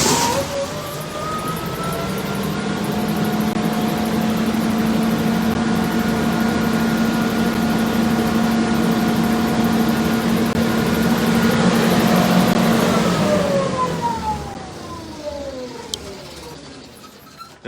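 Kohler 20 kW propane standby generator running, a steady loud engine drone with a tonal hum that ramps up at the start and winds down near the end, no talk.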